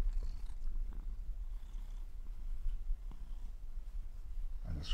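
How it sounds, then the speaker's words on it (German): A black cat purring softly and steadily in a quiet room, a low continuous rumble close to the microphone with no talking. "Das Schnurren meiner Katze hier."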